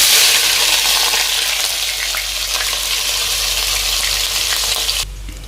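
A loud, steady sizzle of onions frying in hot oil fills the clip, with occasional stirring, before the crackle drops away abruptly near the end.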